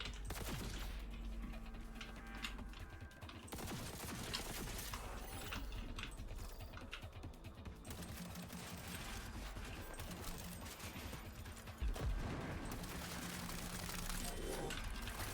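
Gunfire from a gun in the Cyberpunk video game, faint, dense rapid shots rattling steadily under game ambience, with a sharper impact near the end.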